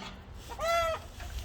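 Chickens give a short, loud alarm call at a red-tailed hawk flying over a backyard coop, a single rising-falling squawk that stands out against a faint, steady outdoor background.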